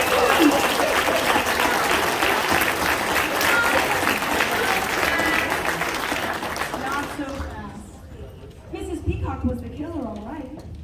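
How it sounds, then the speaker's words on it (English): A high school musical audience breaks into loud, sustained applause that fades after about seven seconds, giving way to a voice speaking over quieter background sound. "Let's have a round of applause!"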